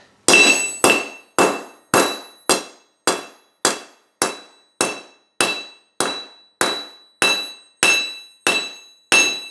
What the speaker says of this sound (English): And so now we just hammer one of these out of that pipe.